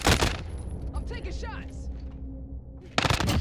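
Gunfire in Warzone on the Caldera map: loud, sharp shot bursts open and close the moment, with a voice talking in between.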